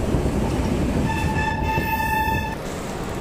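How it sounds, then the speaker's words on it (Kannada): A rail bus pulls into the small Vrindavan railway station, its loud rolling rumble carrying a sustained horn blast midway before the tone cuts off. "ಫೈನಲಿ ನಮ್ಮ ರೈಲ್ ಬಸ್ ಬಂದು ತಲುಪಿದೆ ಇವಾಗ ಬೃಂದಾವನ ರೈಲ್ವೆ ಸ್ಟೇಷನ್ನು"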